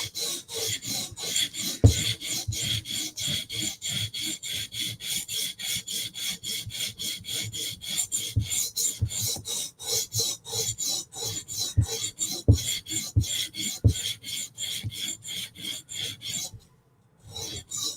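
A soft steel blade edge is ground on a sharpening stone in quick, even rasping strokes, close and steady throughout, with no talking, before the scraping stops just at the end.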